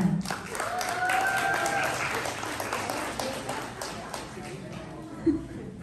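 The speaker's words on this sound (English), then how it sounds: "let's give them a round of applause for doing a lot of effort from A to Z in preparation for her celebration" Steady applause from guests at a debutante's 18th birthday celebration in a hall, honoring her parents, with a host's voice speaking over the clapping throughout.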